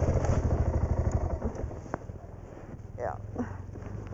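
A dirt bike's engine idles and putters in a rapid pulsing rhythm, heard from a helmet camera, fading midway before revving up again, while someone talks over it.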